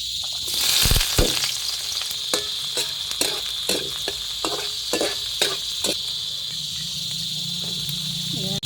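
Boiled chicken sautéing in a pan, a steady sizzle with occasional stirring taps and clinks, close and continuous.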